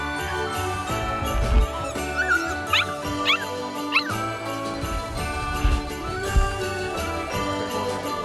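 A puppy whimpers and yips in short, high-pitched bursts close by, with a few small jingling sounds mixed in, while it waits to be readied for a bush plane flight in Alaska.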